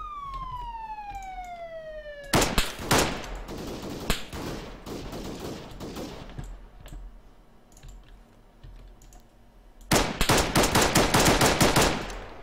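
Bursts of rapid gunfire in Arma 3, with a loud volley early on, scattered shots through the middle and a second dense burst near the end, following a falling siren-like tone.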